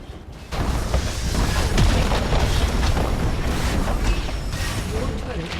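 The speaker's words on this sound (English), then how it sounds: "Your turret has been destroyed." Loud, continuous booming and crashing in a video game as a turret is destroyed, a dense roar of blasts that starts abruptly and holds steady for several seconds, with voices present in the mix.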